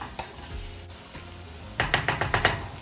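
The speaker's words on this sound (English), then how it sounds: "Saute veggies" Vegetables sauteing in a pan for Jamaican franks and beans, with faint sizzling at first, then a burst of rapid scraping stir strokes near the end, close and fairly loud.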